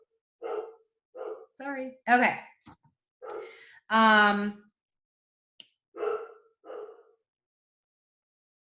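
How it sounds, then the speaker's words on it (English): Several dogs at home bark in short, sharp bursts, some louder and closer than others, scattered over several seconds with a single spoken word and a breathy whine among them. "Now my dogs are all going to go crazy."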